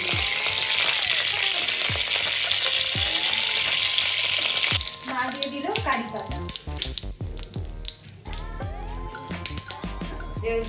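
White mustard seeds crackle and sizzle in hot mustard oil on a gas stove, a dense steady fry that thins after a few seconds into scattered pops, spatters and clinks of a utensil against the pan.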